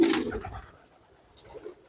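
A young pigeon coos close by, with a brief fuller burst at the start followed by softer, low murmuring coos that trail off.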